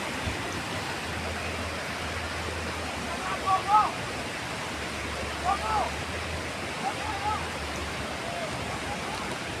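Floodwater rushes by in a steady broadband roar, with brief faint voices rising over it at a few moments.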